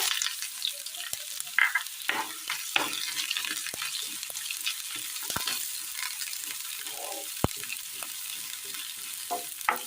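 Garlic and shallots frying for a Kerala village-style curry, a steady crackling sizzle with sharper bursts and pops as the pan is stirred, close by with no talk.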